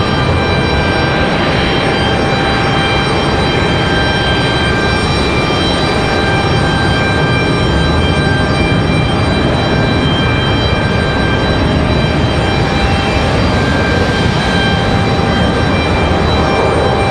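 A Republic Airways Embraer E175 arriving from Nashville rolls at Raleigh-Durham International Airport, its loud jet engines giving a continuous whining roar with steady tonal hums and no speech.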